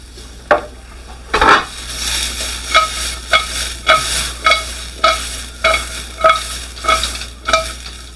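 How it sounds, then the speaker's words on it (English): Japchae vegetables being stir-fried in a pan, with still-hard carrots clinking: a steady sizzle under rhythmic scraping stir strokes roughly every half second, close and clear, no talking. "So the carrots are still a little hard because you can hear that ting ting ting."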